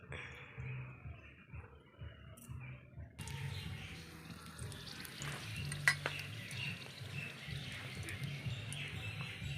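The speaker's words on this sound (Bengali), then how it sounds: "কড়া এখানে পরিষ্কার করে বসিয়ে দিয়েছে গরম হয়ে গেছে এবার দিয়ে দিচ্ছি তেল" Oil is poured into a hot, freshly cleaned kadai for cooking pumpkin greens: faint background hum gives way after a few seconds to a sudden, steady frying sizzle that continues close and even, with an occasional utensil clink.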